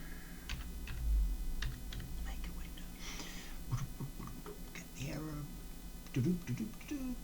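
Typing on a computer keyboard, with irregular clusters of close, sharp key clicks and clacks spread across the stretch, while a voice murmurs briefly in places.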